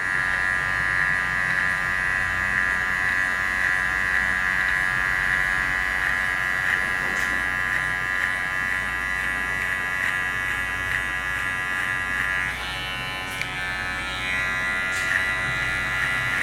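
An electric hair clipper buzzes steadily and loudly, close by, as it cuts hair during a barber's skin-fade haircut lesson, the tone shifting slightly near the end as it moves through the hair.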